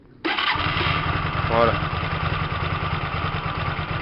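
A Hyosung 125 GTR motorcycle engine fires up abruptly after a mixture-screw adjustment and settles into a steady, close, thumping idle, with someone speaking briefly over it.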